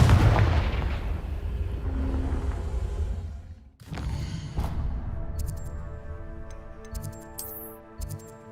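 A Confringo fire spell blast in the Hogwarts Legacy video game, a heavy booming rumble that fades, then a sharp second whoosh-like impact followed by ringing tonal game effects and light ticks, with no talking.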